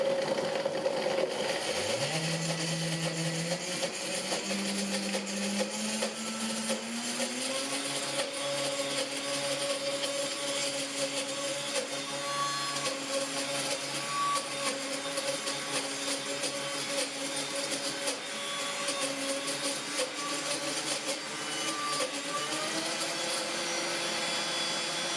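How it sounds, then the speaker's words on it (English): KitchenAid Pro Line Series blender running continuously, motor whine rising in pitch in steps over the first seconds then holding a steady loud drone throughout, with no talk. "We'll blend this for a minute."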